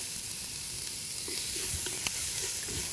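Garlic, chilies and onion hit hot fat in a pot of mutton stew with bay leaves, cloves and allspice, producing a loud, continuous close sizzle with faint stirring scrapes.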